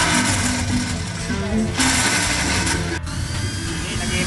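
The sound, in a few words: drill enlarging holes in motorcycle exhaust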